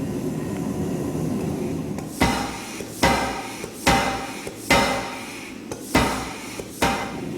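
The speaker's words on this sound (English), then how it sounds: "I'm going to hammer it square" A blacksmith hammers a steel tenon square on an anvil for a garden gate, six sharp, ringing blows landing at a steady rhythm about once a second over a constant background hum.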